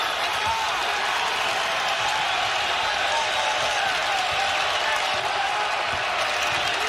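Basketball arena crowd of Villanova and Purdue Boilermaker fans, a steady broad roar of cheering and chatter that fills the whole stretch without letup.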